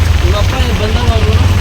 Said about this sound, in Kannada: ಸರಿಯಾಗಿ ಬೀಳ್ತಿದೆ ಫ್ರೆಂಡ್ಸ್ ಮಳೆ.